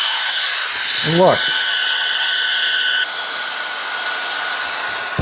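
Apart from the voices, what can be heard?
cordless electric compressed air duster inflating a pool inflatable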